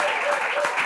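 The audience at the final of a Bible quiz show gives a dense, steady round of applause that fills the brief moment, with a voice faintly audible underneath.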